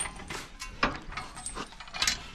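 A spike tooth drag section being folded out of the way, giving a few separate metallic clanks and ratcheting knocks spread over a couple of seconds, moderately close and with no talk.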